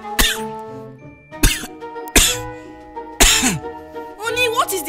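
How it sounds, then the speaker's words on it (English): Four sharp, harsh dry coughs spaced about a second apart, close and loud, followed by a brief bit of voice over a faint background tone. "So just start coughing."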